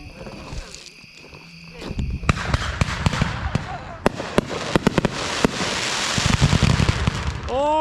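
Custom pyrotechnic fireworks, including rockets, salutes and slices, go off at a birthday party: a rapid string of loud sharp bangs and crackles, some rising whistles near the end, with people talking and exclaiming in between.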